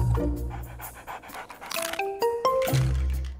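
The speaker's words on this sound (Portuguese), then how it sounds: "não é fácil passear com um cachorro que tem 3 vezes o seu tamanho" A large cartoon dog pants during a walk in a children's animated show, with rapid breathy panting over bright chiming music and clinking effects.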